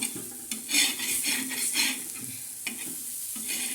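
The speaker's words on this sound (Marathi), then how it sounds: "लालसर थोडीशी व्यवस्थित भाजून घ्यायची" Shelled green chickpeas roast in a pan with garlic and green chillies, sizzling steadily while a spoon stirs and scrapes against the metal in uneven strokes; no talking.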